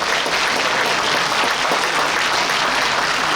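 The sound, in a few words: applause at a book launch event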